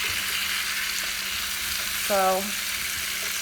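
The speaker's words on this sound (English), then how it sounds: "what I'm trying to do is get some of the bacon grease on all of the potatoes, so they will cook evenly and good" Potatoes fry in bacon grease in a pan, a steady close hiss and crackle under gentle stirring, with a brief spoken word partway through.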